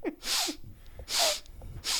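A person imitates Donald Trump's sniffing from a debate with three quick, sharp nasal sniffs, spaced roughly evenly and close to the microphone.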